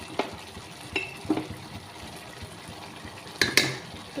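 Chicken curry with ginger paste and chili powder is stirred in a pan, a soft, low bubbling sizzle punctuated by a few sharp spoon scrapes and clicks against the pot.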